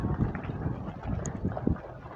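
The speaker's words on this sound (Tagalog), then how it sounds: "Malakas ang hangin." Strong wind at a seaside park, buffeting the microphone in low, uneven gusts with a rough rumbling texture throughout, no voices audible.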